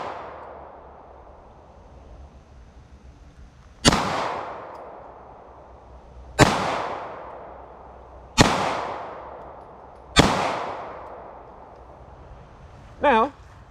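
Four sharp, loud pistol shots from a CZ 75 SP-01 Shadow ring out outdoors at an irregular pace a few seconds apart, each followed by a decaying echo, with a short voice sound at the very end.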